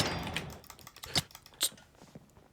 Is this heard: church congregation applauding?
no